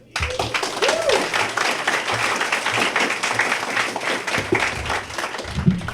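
Crowd applause at an outdoor Fourth of July ceremony in Montclair, a steady wash of many hands clapping that holds for the whole stretch, with scattered nearby claps and faint voices underneath.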